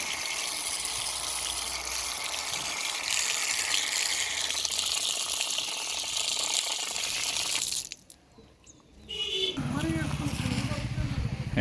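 Water runs steadily from a tap at a temple's foot-washing spot, a continuous rushing wash that breaks off briefly before resuming with splashing, while people talk nearby.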